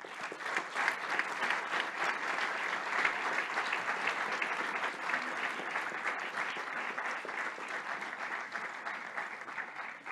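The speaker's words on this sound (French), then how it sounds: "je vous demande de bien vouloir applaudir l'engagement indéfectible du comité" A meeting audience applauds a committee, a steady, sustained wash of many clapping hands heard from some distance in a hall, even in level for the whole stretch and free of talk.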